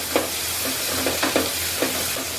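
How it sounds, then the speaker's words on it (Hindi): Finely chopped onion sizzles in a pan over low heat with garlic and green chillies, frying toward light brown while being stirred continuously for lasooni palak. A steady close sizzle carries a few rhythmic spatula scrapes, with no talking. "लगातार चला के प्याज को लाइट ब्राउन होने तक भून लेते हैं।"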